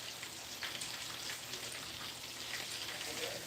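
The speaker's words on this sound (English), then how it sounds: "I guess when it starts frying, it just start floating and stuff." Chicken wings deep-frying in hot oil make a steady, fairly quiet crackling sizzle like light rain, continuous and even throughout with no voices.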